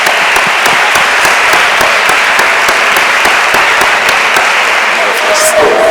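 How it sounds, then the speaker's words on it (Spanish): A conference audience at a medical treatment panel gives the speakers loud, continuous applause, a close and full roar of clapping that stays level throughout. "creo que estos ponentes se merecen un aplauso muy,"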